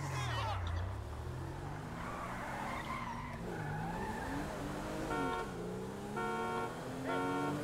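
A car speeds up in GTA V, its engine rising and falling in pitch with tire squeals, and short horn toots sound near the end.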